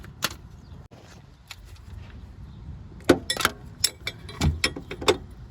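A 10 mm socket wrench on a swivel works on the water pump of a Dodge Chrysler 3.3/3.8 L minivan, giving a series of close, sharp metallic clicks and clanks, sparse at first, then quicker and more irregular.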